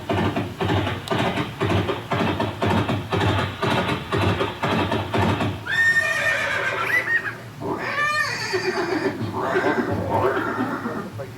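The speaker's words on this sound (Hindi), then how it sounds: "घोड़ा आवाज।" A horse neighs several times in loud, drawn-out whinnies during a dramatized Haldighati battle scene with Maharana Pratap's warhorse, following a stretch of rhythmic background sound; distinct hoofbeats are not clear.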